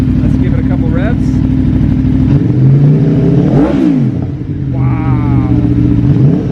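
An Aprilia Tuono V4 motorcycle engine with a race ECU flash and sprint filter revs up and drops back over a steady loud idle, with a couple of rising throttle blips while people talk nearby.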